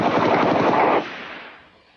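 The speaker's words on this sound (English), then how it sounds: "This gunfire was recorded on a street in Los Angeles on New Year's Eve, 1988." Rapid burst of gunfire on a Los Angeles street on New Year's Eve 1988, a dense crackling volley for about a second that then cuts off into a fading echo.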